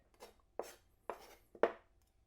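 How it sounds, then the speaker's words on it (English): A chef's knife rocking through herbs on a cutting board, three distinct sharp chops spaced about half a second apart, close and clear with near silence between strikes. "you have a chef's knife, you hold the end and you rock it and roll it"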